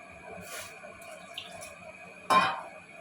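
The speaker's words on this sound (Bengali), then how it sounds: "এবারে পরিমাণ মতন আমার গরম জল ফুটানো ছিল সেই গরম জল দেবো আপনার রান্নায়" Boiled hot water poured into fish-head lentil dal as it cooks, one short, splashy pour near the end of an otherwise quiet kitchen stretch.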